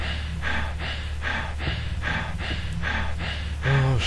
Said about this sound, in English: Why am I hearing breathing?